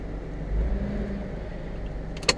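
A Nissan ZX car on a night drive gives a steady low engine rumble and road noise from inside, fairly loud and constant, with a brief sharp knock near the end.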